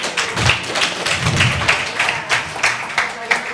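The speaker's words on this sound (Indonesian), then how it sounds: "Kita tepuk tangan sekali lagi." Rhythmic clapping from an audience at a religious debate event, sounding as regular thuds in a steady pulse with voices faintly underneath.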